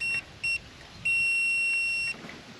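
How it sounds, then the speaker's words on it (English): A multimeter in continuity mode, used to test a trailer brake ground wire, gives high, clean electronic beeps: two short blips followed by one longer tone of about a second, close and clear with no talking. "You can also set your meter on continuity mode and it'll give you a good beep when you have continuity."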